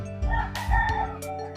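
Egg-laying chickens clucking with a rooster crowing on a small hundred-hen farm, close by and fairly loud, continuing steadily for a moment.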